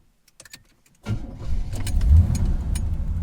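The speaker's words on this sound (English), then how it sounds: "The sound of the V8." A 1977 Corvette C3 V8 cranks and fires up from inside the cabin: a few faint clicks, then the engine catches with a sudden deep rumble that settles into a loud, rough idle with a slight rev.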